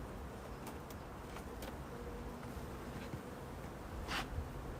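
Dense, steady buzzing of many bees close by at an open hive, with individual insects droning past now and then.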